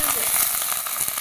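Small onions and garlic sizzle and fry in a pan, a steady close crackle with faint stirring through a short stretch, no talk.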